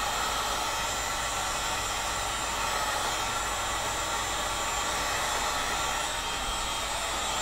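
A heat gun blows a steady, loud, close stream of hot air onto a PVC label to shrivel and melt it away, a constant rushing hiss with no breaks and no voices.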